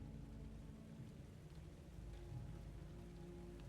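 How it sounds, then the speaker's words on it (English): Steady rain pours down with a dense, even hiss and a low rumble beneath, like a heavy storm heard from close by, with no voices over it. "The rain coming down, hitting your face."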